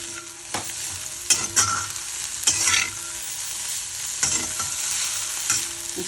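Chopped cluster bean leaves being stirred in a hot pan, the spatula scraping in several distinct strokes over a steady close sizzle of frying, with no voices.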